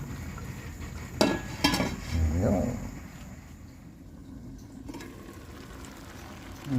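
A lid placed on a cooking pot of simmering squash and moringa leaves: a couple of clattering metal clinks, followed by a low bubbling rumble and quiet kitchen background.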